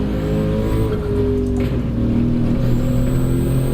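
A race car in Gran Turismo is held at full throttle with a loud, continuous engine roar that climbs steadily in pitch, heard alone with no voices.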